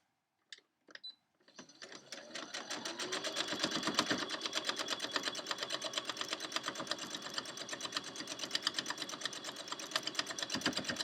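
A sewing machine stitches a quilt along its seams. After a few soft clicks it starts up and runs steadily for about nine seconds, a fast, even mechanical whir with rapid needle ticking, close and alone.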